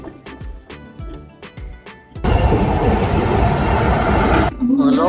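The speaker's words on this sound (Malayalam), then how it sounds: "ട്രെയിനൊന്ന് സ്ലോ ആയിട്ടുണ്ട്." A sleeper class train slows on its approach to a station, with a loud broadband rumble of the carriage rising sharply after a couple of seconds and holding steady, while people talk nearby in the compartment before it.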